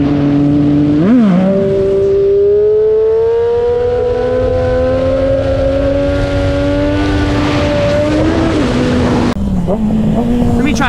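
A Daytona motorcycle ridden hard on a road: a steady loud engine drone that climbs in pitch as it revs, dips briefly during shifts, and carries wind noise.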